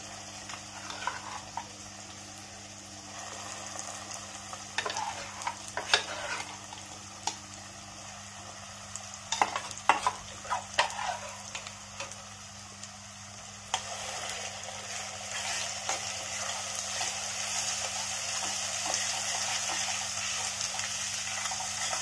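A ground masala paste sizzles in a pan while it is stirred, with scattered scraping strokes early on and then a steadier, louder frying hiss, close up under a low background hum.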